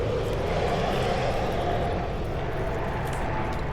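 Loud, continuous roar of nearby highway traffic, a steady broadband rumble with no gaps, heard alone without talking.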